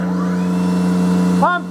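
A vacuum pump on a vacuum system under initial test drones loudly and steadily, then shifts pitch with a rising whine near the end as it changes state. A voice is heard over it.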